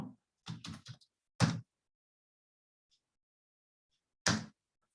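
A password is typed on a computer keyboard while configuring a Windows Server 2019 system: a few short clusters of soft key clicks near the start, one more brief burst later, with quiet gaps between.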